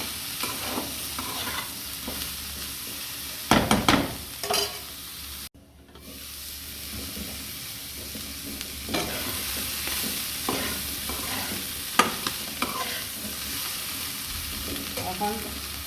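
Thick-cut onions fry in a pan for a Chinese vegetable dish, with a steady close sizzle under repeated scraping strokes of a spatula and a brief pause partway through; no one speaks.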